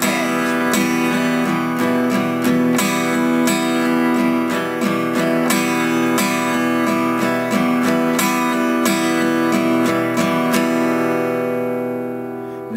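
A guitar strummed with a pick in a steady one-and-two-and count, two of the off-beat upstrokes given heavier accents, ringing chords played continuously and loud, with no voice.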